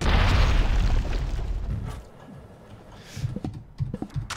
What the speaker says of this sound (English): We might do a grenade at this point.